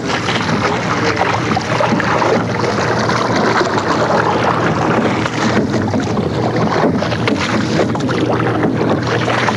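A sculling rowboat glides over the water in a steady wash of water and wind noise, loud and continuous with no strokes clearly standing out.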